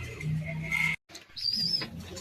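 Performance pigeons kept for sale coo and call close by, with low soft tones at first, then a brief gap followed by a higher chirping note.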